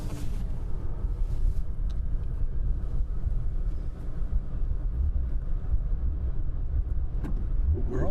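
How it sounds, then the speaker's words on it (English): An Aston Martin sports car engine roars steadily from a nearby in-car position, a continuous low rumble with wind noise that holds throughout and never lets up. "There goes the Aston."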